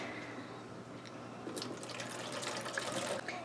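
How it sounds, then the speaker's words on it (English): Lemon and lime juice pours steadily into a container, a continuous soft splashing trickle with slight dripping, fairly faint and alone. "So I'm going to pour my juice in here."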